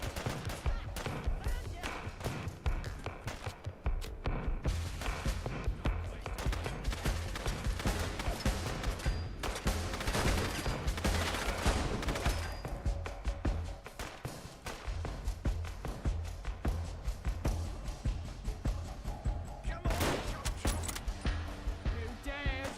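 Sustained gunfire from the video game Fallout London, dense rapid bursts of shots and impacts crackling almost continuously and loudly, with a voice speaking briefly among the noise.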